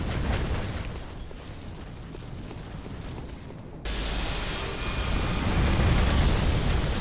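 The ground bursts apart after a laser attack in the video game Bloodborne: a loud, sustained, roaring explosive rumble that changes character suddenly partway through, then rises again toward the end.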